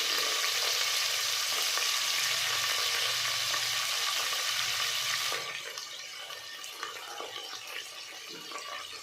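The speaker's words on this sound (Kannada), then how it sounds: "ಆನಿಯನ್ನು ಸಾಫ್ಟ್ ಆಗೋವರೆಗೂ ಚೆನ್ನಾಗಿ ಫ್ರೈ ಮಾಡ್ಕೋಬೇಕು" A big onion, sliced thin and long, fries in a pan for palak methi matar pulao. A loud, close, continuous sizzle drops abruptly to a softer crackle about halfway through, with no voices.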